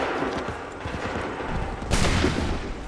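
Musket volley fire in Assassin's Creed 3, a dense crackle of shots under battle noise that swells into a louder burst near the end, with no clear voices.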